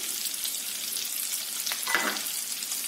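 Chopped green chillies and coarsely ground roasted cumin go into a hot pan for jeera aloo, giving a steady, close frying sizzle with a brief stir or clatter near the end.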